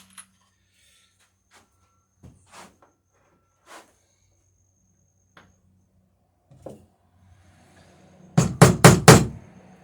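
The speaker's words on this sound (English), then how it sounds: "Start the nail, then use the backing block to drive the nail in." Hammer driving nails while riveting wooden dory planking: sparse single taps and knocks are spread apart, then a quick close burst of four or five loud hammer blows near the end.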